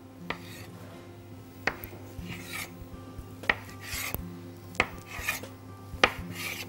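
Dough being cut into pieces with a knife on a board, a series of sharp, evenly spaced chops and scrapes, close and fairly clear, with no talk.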